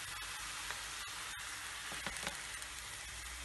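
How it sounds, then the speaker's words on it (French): Meat simmering in a pot for a prune meat tajine gives a steady, close, even sizzle with faint crackles and a few soft clicks, with no talking. "je vais laisser mijoter ma viande"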